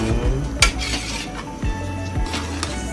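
A spoon scrapes and clinks against a pot as Afang soup is stirred, with a few sharp metallic knocks over a low simmering hiss, close and moderately loud with no talking.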